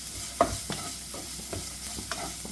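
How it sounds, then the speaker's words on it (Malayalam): A spoon stirs a mix of wheat flour, coriander leaves and black sesame seeds roasting in a pan, giving a few soft scraping clicks over a faint sizzle, quiet and close. "ഒരു രണ്ട് ടീസ്പൂൺ അളവിൽ കറുത്ത എള്ളാണ് ചേർക്കുന്നത് എല്ലാം കൂടെ നമുക്ക് ഇതുപോലെ ഒന്ന് ഒന്ന് മിക്സ് ചെയ്തെടുക്കുക"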